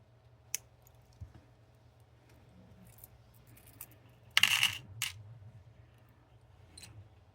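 Beads drop into a bead box in a few sparse, sharp clicks and one brief rattling burst near the middle, close and quiet against a faint background hum.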